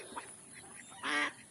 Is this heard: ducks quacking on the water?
yes